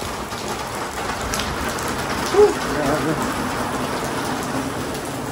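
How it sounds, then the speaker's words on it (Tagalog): Heavy rain pours steadily, a dense hiss of drops drumming on a surface, with one brief louder knock partway through. "lakas ng ulan eh"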